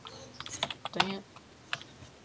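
Computer keyboard keys, including the spacebar, tapped during a parkour video game, a short cluster of close, sharp clicks with a couple of isolated presses after, over faint background.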